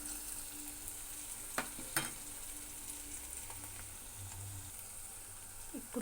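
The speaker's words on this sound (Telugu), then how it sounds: "ఆయిల్లో కొంచెం ఉల్లిపాయలు, కొంచెం పచ్చిమిర్చి యాడ్ చేసుకొని లైట్గా వేయించుకోవాలి." Onions and green chillies frying lightly in oil for gobi manchurian, a soft, even sizzle with a few sharp utensil taps and stirring scrapes, fairly quiet and close.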